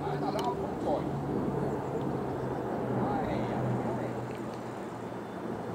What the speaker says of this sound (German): Etwas größeres Flugzeug.